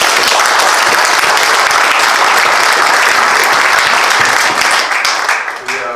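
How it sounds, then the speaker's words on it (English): An audience applauds the candidates at a county supervisor debate in Merced, with loud, continuous clapping throughout that thins out toward the end. "how about a round of applause for our candidates?"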